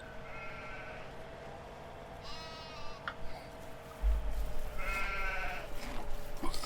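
Sheep in a farming video game bleat in several separate calls, a couple of short ones early and a longer one later, over a steady low hum of game ambience.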